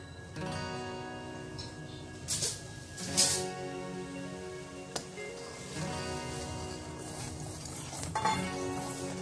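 Vermicelli tipped into boiling milk in a wok: soft bubbling and sizzle with scattered stirring scrapes and light utensil knocks against the metal, moderately quiet and continuous.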